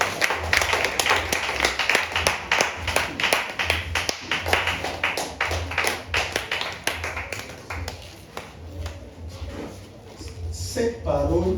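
At a Sunday thanksgiving church service, the congregation claps in rhythmic acclamation, steady and fairly close, with voices mixed in. The clapping fades and a few sharper sounds follow.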